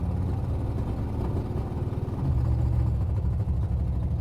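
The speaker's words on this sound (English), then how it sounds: "Part of the terrible sound is I think the exhaust system's kind of falling off this thing." A car engine fitted with a Thermoquad carburetor and a loose exhaust system runs close by with a steady, rough, throbbing rumble that grows slightly louder midway.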